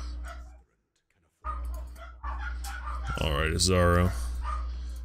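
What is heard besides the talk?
dogs barking in the video game Path of Exile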